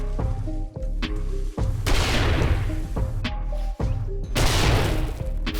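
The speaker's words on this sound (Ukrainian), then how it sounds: "Дуже гарно тепер вибухають пропанові балони та діжки з паливом" Propane tanks and fuel barrels blow up one after another in the game 7 Days To Die, loud booming blasts with crackling debris, several detonations in quick succession.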